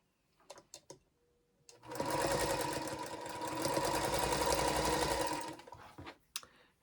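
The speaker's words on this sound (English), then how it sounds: "And it doesn't matter which side you sew this on." A sewing machine runs steadily for about three and a half seconds as it stitches a charm pack quilt block with a quarter-inch seam, preceded and followed by a few faint clicks and handling sounds.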